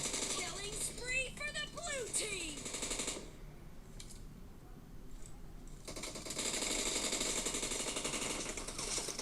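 Rapid bursts from an M249 machine gun in PUBG Mobile on the Livik map, heard under and after a voice and growing into sustained fast rattling fire toward the end.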